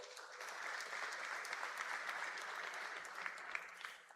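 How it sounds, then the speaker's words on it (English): Faint, even applause from an audience at a university commencement ceremony, heard at a distance. The clapping is continuous, a steady wash of many hands with no talk over it, and it carries through the whole stretch. "I believe that deserves a round of applause."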